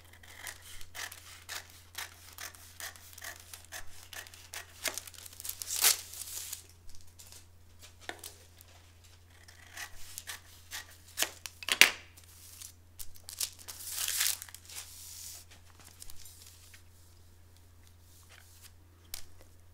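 Scissors snip through paper while a short sleeve pattern with a shaped hem is cut out, giving faint, irregular cuts and rustles over a steady low hum, with no talking.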